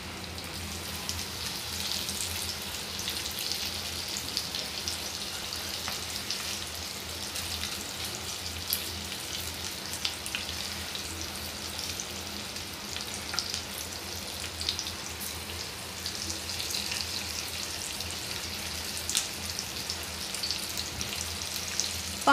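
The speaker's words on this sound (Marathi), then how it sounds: "आणि फ्राईंग पॅनमध्ये फ्राय करण्यासाठी सोडायची आहे।" Semolina-coated bangda (mackerel) fish frying in a pan, a steady dense sizzle and crackle that holds evenly throughout with no talk.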